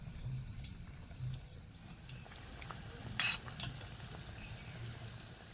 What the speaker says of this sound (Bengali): এই পকোড়াটা ভাজার সময় কিন্তু হালকা আঁচে হলে হবে না, মিডিয়াম আঁচে রেখে ভেজে নিতে হবে।